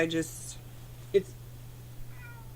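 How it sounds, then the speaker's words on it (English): A cat meows several times at close range over a steady low hum, with a person talking nearby in a podcast recording room. "She's not usually this meowy."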